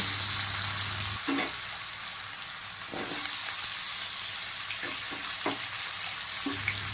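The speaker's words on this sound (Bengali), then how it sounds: "মাছ ভাজার তেলের মধ্যে ওলগুলো একটু ভেজে নেব" Continuous close sizzle of yam pieces frying in oil previously used for frying fish, broken by a few scraping stirs and light knocks, with no voices.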